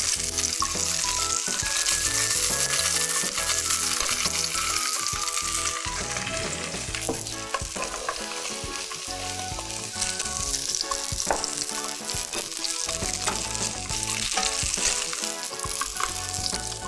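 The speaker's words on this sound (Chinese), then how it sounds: "今天这个鲑鱼蛮厚的所以煎的时间可能也要久一点" A thick salmon fillet pan-frying, giving a continuous loud, dense sizzle and crackle that holds steady up close, with a few faint stirring or utensil sounds and no talking.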